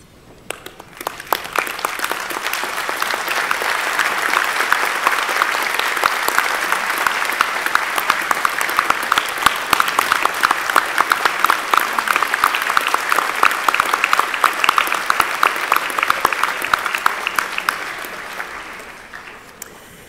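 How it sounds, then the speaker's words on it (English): A large graduation audience at a Massey University ceremony in Auckland breaks into sustained applause, swelling quickly into a loud, dense wash of clapping that holds for well over ten seconds before thinning out. "applaud those on stage and turn and applaud your family and friends behind you"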